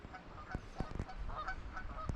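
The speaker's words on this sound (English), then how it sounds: "You can hear some Canada geese honking away there" Canada geese honk in short, scattered calls across a windy reservoir on Dartmoor, a few distinct honks rising over steady background noise, moderately distant and with no talk.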